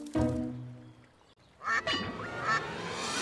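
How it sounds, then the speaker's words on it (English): A duck quacks loudly in a few short bursts in an animated animal story about a dragonfly, after a brief low call at the start. "Here comes a duck!"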